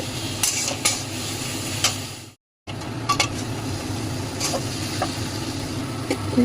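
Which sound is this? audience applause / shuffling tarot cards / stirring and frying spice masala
stirring and frying spice masala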